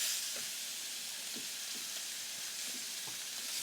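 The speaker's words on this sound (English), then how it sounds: "we're gonna let them sear for another minute" Picanha steaks searing on a Ninja Woodfire Grill give a steady, even sizzle throughout, with faint soft pops and crackles scattered under the hiss and no voices.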